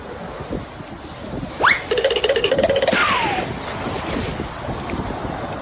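Out in the middle of the sea, strong wind buffets the microphone over the steady wash of waves. The roar stays loud throughout, with a brief whistling tone and a short rattling flutter partway through.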